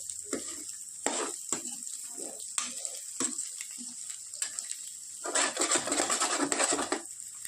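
Curry frying in a pan, sizzling in short bursts with a louder, denser crackle toward the end, close and steady without talk.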